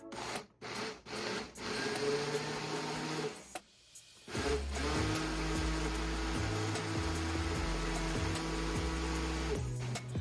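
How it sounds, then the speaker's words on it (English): Food processor grinding brine ingredients, including apple juice, with the lid on; a quiet run of short motor pulses, a brief pause, then a longer steady churning whir, with no talking. "I'm gonna put this lid on here and then just get to grinding it up"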